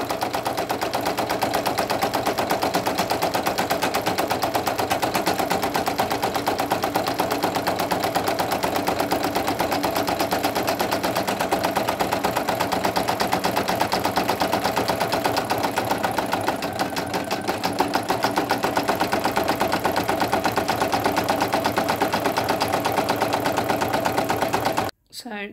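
A Brother single-needle embroidery machine sews a satin stitch on pink holographic embroidery vinyl, a fast, steady mechanical rattling whir running close and loud for nearly the whole stretch before stopping abruptly at the end.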